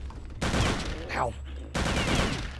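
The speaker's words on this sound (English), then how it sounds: "I keep shooting them even when they've got the shield up because sometimes the bullets go past their shield." Rapid automatic gunfire in the video game Return to Castle Wolfenstein, two loud sustained bursts separated by a short pause in which a descending whistling sound is heard.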